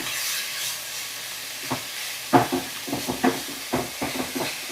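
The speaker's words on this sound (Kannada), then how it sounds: "ಸೊ ಚೆನ್ನಾಗಿ ಫ್ರೈ ಮಾಡೋಣ" Sizzling oil crackles steadily while a utensil stirs and scrapes a dill and dal fry in the pan, several distinct clatters in the second half.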